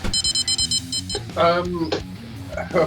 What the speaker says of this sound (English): The fucking beepers are going off again. I'm gonna have to start pulling rods out here because I can't concentrate with the beeping going on.